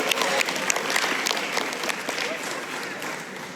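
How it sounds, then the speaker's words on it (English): A conference crowd gives a steady, dense round of applause at an awards moment, the clapping sustained and fairly near throughout with faint voices mixed in. "Give yourself a round of applause,"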